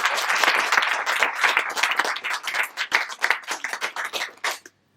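Audience applause at an International Women's Day event, a dense burst of many hands clapping loudly that thins into scattered claps and then stops abruptly near the end.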